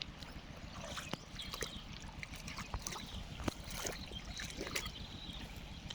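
Water in the Tiro river in Aceh flows steadily, with a continuous near rush broken by scattered splashes and knocks from the current over rocks.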